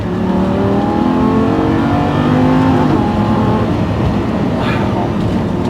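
A sports car, either a Lamborghini Gallardo or a rear-wheel-drive Porsche 718 Cayman GT4, pulls hard under acceleration. Its engine note is loud and continuous from inside the cabin, with a rising harmonic whine.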